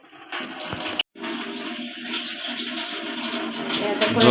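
Water runs and splashes as ingredients for spiced puffed rice are rinsed clean, a steady close-up wash broken by a brief silent gap.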